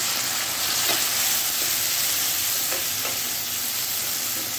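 Tomatoes added to a pan of frying onions, garlic and ginger, giving a steady broad sizzle with a few soft stirring knocks underneath.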